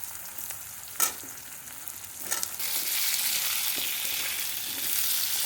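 Potatoes, onion and nigella seeds frying in oil, a steady hissing sizzle that grows fuller midway, with occasional clinks and scrapes from stirring.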